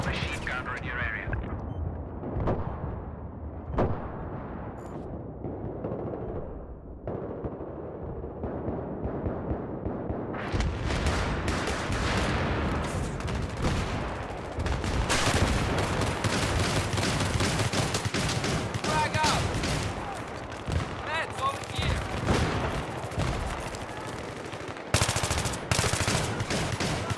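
Dense, continuous gunfire and explosions fill a Battlefield 3 online match on the Metro map, with rapid machine-gun bursts layered over heavy battle noise throughout.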